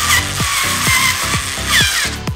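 A power tool drives screws while a game room is being set up, its motor whirring steadily in repeated short bursts with pitch sweeps as each screw seats, close and loud, with no talking.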